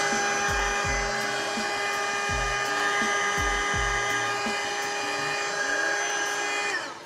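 A close, loud, steady electric whine from a heat tool drying gesso on MDF coaster bases, running alone for about seven seconds before cutting off at the end.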